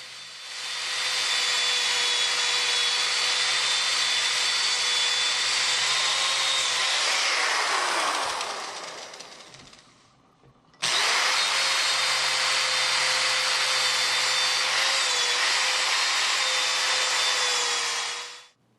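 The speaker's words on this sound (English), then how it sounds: "I love these foam polishing pads because no matter how hard you press, you can't melt or burn through the finish." A power polisher with a foam pad hums loudly and steadily as it buffs an electric guitar's finish, winds down to a stop, then starts again and runs for several more seconds.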